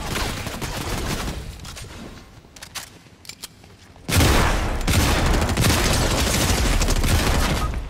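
Gunfire in Fortnite, sparse scattered shots at first, then an abrupt, loud sustained barrage of rapid fire and blasts filling the second half.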